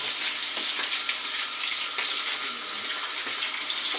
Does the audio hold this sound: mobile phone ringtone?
no